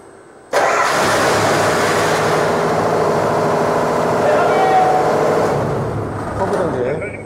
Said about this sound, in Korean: 여기서 바로 엔진 펌프를 돌릴 수도 있습니다